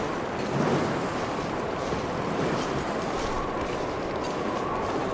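Wind howls in the cold wilderness of the survival video game The Long Dark, a steady broad rushing gust that swells slightly early on and stays moderately loud throughout, with no talking.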